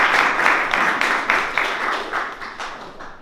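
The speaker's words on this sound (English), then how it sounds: "please give a round of applause for Vishal Vasanji" An audience at a Startup Grind fireside event applauds as a guest is introduced, a dense, steady patter of many hands clapping close by that slowly fades over a few seconds.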